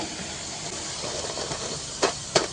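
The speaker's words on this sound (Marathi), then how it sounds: "दुसरी बॅचसुद्धा आपण अशीच तळून घेणार आहोत" Methi matar snacks fry in hot oil, giving a steady close hiss of bubbling with two brief sharper crackles near the end and no talk.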